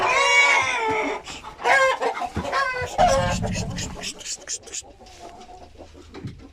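Hint horoz rooster chasing hens, with loud squawks and clucking bursts close by, then softer clucks fading, alongside some human sound.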